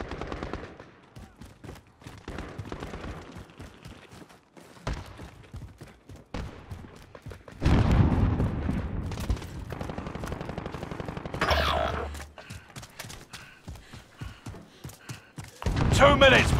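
Gunfire in Call of Duty: Warzone, loud bursts of automatic shots crackling in a firefight, coming in several rapid volleys with pauses between them while voices shout over the action.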